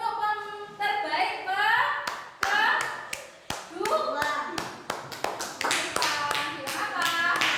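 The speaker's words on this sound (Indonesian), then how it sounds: "Tepuk tangan untuk terbaik" Children in an Indonesian fourth-grade classroom clap their hands in several bursts of sharp, fairly close claps, broken by short gaps, while a teacher's voice speaks over the applause.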